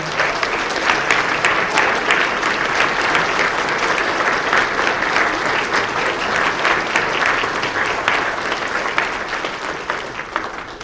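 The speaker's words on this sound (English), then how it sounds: "Please help me give a heartfelt round of applause to today's Grand Marshal, Kevin Barrett" Crowd applause for the Grand Marshal at a town Memorial Day ceremony, a long steady round of clapping from many people outdoors, easing slightly in the final seconds.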